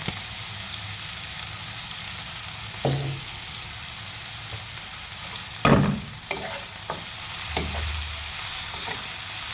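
Onions sizzle steadily in a pan while a spoon scrapes and stirs a few times, with clattering knocks at intervals; no one speaks.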